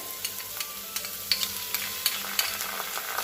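Steady sizzling of ginger-garlic paste frying with onions in a pan, with a spatula scraping and tapping at regular intervals throughout.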